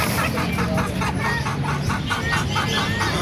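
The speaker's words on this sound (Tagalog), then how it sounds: "May kakaibang manok pa tayo nakita rito" Small chickens at a market in Bocaue clucking in a rapid repeated pattern close by, over steady background noise.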